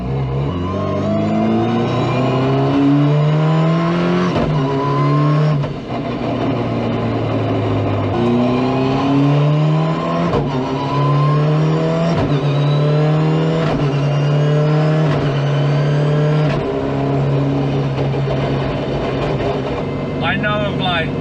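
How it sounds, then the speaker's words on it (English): A 600 hp Honda S2000 D1NZ Pro drift car engine revs hard and repeatedly, its pitch climbing and dropping in rapid waves through gear-like surges, loud and close throughout the whole stretch. "Definitely sounds like a track car."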